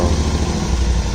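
A Royal Enfield Interceptor 650 with an AEW 102 exhaust and dB killers fitted rumbles steadily close by, a brief, loud, low pulsing engine note with no voices.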